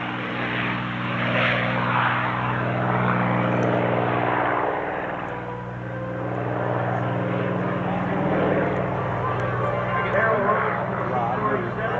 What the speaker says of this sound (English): The Mustang is powered by the Rolls-Royce Merlin engine